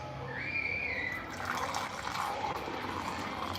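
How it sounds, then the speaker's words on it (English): Hot pineapple peel and hibiscus tea is poured into a cup, making a soft, continuous trickle of liquid with a faint rising splash. It is fairly quiet and has no talking. "Let's pour a little bit over here and then we see."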